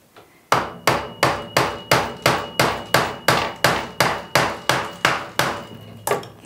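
Nails are hammered into armchair upholstery during spring tying: about fifteen sharp, evenly spaced blows land roughly every third of a second, loud and close, followed by one last strike after a short pause.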